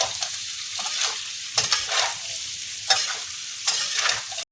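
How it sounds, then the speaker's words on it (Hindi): Potatoes with salt and turmeric stirred in a hot pan for a dosa aloo sabzi, a continuous close sizzle broken by repeated rhythmic scraping strokes of a spoon against the pan. "अब इसमें नमक हल्दी डाल देंगे, इसको 2 मिनट तक चलाएंगे अच्छे से"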